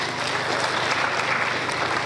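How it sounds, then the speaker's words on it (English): A short burst of steady audience applause, many hands clapping together at an even level with no speech over it. "Clap for them."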